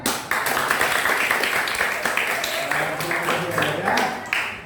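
A group in a classroom session claps hands together, a dense burst of many claps with several sharp accents throughout, loud and close, with faint voices mixed underneath.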